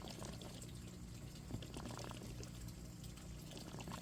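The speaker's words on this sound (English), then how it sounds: "That gurgling, that's the bell siphon finishing up." An aquaponics bell siphon gurgles and trickles as it drains and air escapes, a quiet, continuous watery bubbling and pouring with a few small splashes, heard alone.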